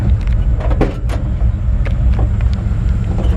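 A 1965 Ford F100 pickup pulls in and parks in the shade, its low engine rumble steady and close, with faint clicks and knocks scattered over the idle.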